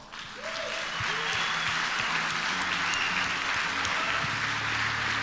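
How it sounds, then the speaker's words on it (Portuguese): An audience at a talk on the habits of highly prosperous people breaks into steady applause to welcome a speaker onstage. Full, continuous clapping starts after a brief quiet moment, with a tonal musical backing underneath. "com uma grande salva de palmas"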